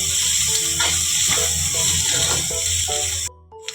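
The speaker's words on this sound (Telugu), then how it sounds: "అది మనం లైట్ గోల్డెన్ కలర్ వచ్చినంత వరకు మనం వేపుకోవాలి ఉల్లిపాయని." Sliced onions frying in oil over a medium flame, a steady loud sizzle and hiss throughout that cuts off near the end, with faint tonal beeps in the background.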